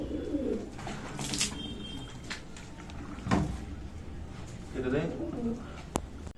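Pet pigeons give a few soft, rolling coos at close range, spaced out amid faint household noise and a brief knock or clatter.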